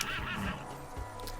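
Horse neighing in the horse-riding video game Star Stable, a single short whinny heard up close and fairly quiet, with a faint thud toward the end.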